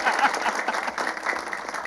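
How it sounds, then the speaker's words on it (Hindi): An audience at a Hindi comedy poetry gathering claps briefly in an uneven patter, with a murmur of voices mixed in. "अब क्या आपके कानों में आकर कहूं कि ताली बजाओ?"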